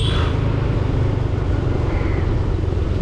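A motorbike roars past close by on a highway-like road. A loud, steady engine drone fills the whole moment.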